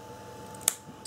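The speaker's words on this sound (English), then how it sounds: "Grab me little scissors like so, and then just literally give it a cut about there." Small scissors make a single sharp snip up close, followed by a faint click, against a quiet room.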